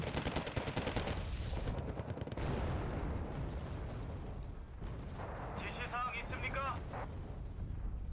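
Triple machine guns firing in a war video game, a dense rapid burst of gunfire with booming blasts, heard under excited voices.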